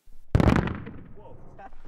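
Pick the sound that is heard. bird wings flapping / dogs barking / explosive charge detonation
explosive charge detonation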